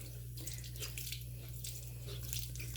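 Hot tap water runs faintly into a sink with a soft, steady splashing, alongside a low constant hum.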